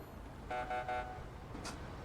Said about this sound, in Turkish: Polis kornası bir de Türk kornası arkadaşlar bu arada